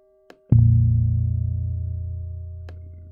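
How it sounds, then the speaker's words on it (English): A very low, deep synthesized bell tone made with additive synthesis in the Web Audio API strikes once and sustains a dense low hum that slowly decays, with a few faint clicks around it and no talking. "Very deep bell."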